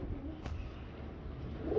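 A Firozpuri jaldar female pigeon gives a soft, low coo, brief and faint, alone and close in a quiet setting.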